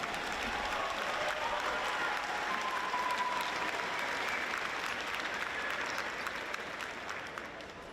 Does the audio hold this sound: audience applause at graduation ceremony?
yes